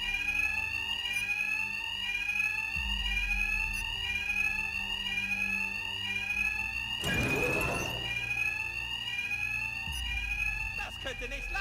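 In Batman: Arkham Knight, an electronic alarm wails continuously in a rapid, repeating sweeping siren pattern, loud and steady throughout, with deep game rumbles and a burst of noise partway through beneath it.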